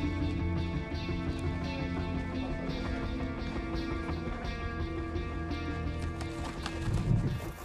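A horse shifts and stamps its hooves and gives a whinny while undergoing chiropractic treatment, with close, busy movement sounds throughout.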